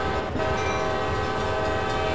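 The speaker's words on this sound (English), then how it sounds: "Sorry, there's a lot of horn going on here." In Train Simulator World, the horn of a GP40-2 diesel locomotive blares in one loud, sustained chord over a low rumble of running gear, after a very brief gap at the start.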